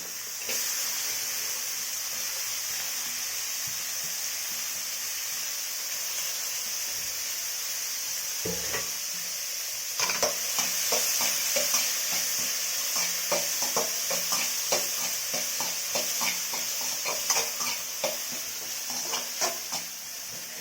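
Broad beans stir-fry in oil with softened tomato, a steady close sizzle that grows louder after they are added, punctuated by rhythmic scraping and tapping of a spatula against the pan, with no talking.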